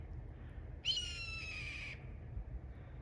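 A hawk in a tree outdoors near Weston, Colorado, gives a single harsh, drawn-out call lasting about a second, heard at moderate distance over a quiet outdoor background.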